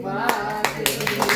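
A group claps together at the end of a short film shoot, sharp scattered hand claps close by with some voices mixed in.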